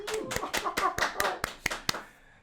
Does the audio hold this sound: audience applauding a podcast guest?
yes